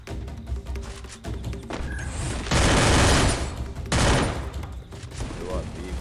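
Gunfire in an online squad shooter game: rapid bursts and booming shots crowding together into a loud, continuous barrage midway, with players' voices mixed in.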